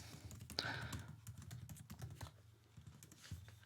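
Close computer keyboard typing as business name and company details are entered into invoice settings, a quick irregular patter of key clicks with brief pauses, no talk.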